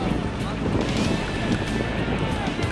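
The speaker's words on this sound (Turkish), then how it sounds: "Şu anda acayip bir rüzgar esmekte." Strong wind on a mountain at the Kartepe ski area roars steadily across the whole stretch, close, loud and broadband, with gusts buffeting the microphone.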